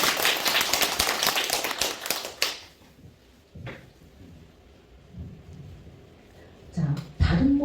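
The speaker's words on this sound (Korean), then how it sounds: "박수 좀 부탁드립니다." Lecture attendees applaud at the start of a talk, a dense burst of clapping lasting a couple of seconds before dropping to quiet room noise with a few scattered thumps and knocks.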